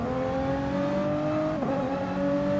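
A Super GT race car engine in a racing video game holds a steady, loud, high-revving drone, with one brief dip in pitch at a shift midway, alone with no talk.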